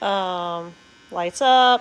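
A Bitvae R2 electric toothbrush with a rotating head gives a steady, close motor buzz in two stretches split by a short pause, with a brief spoken remark.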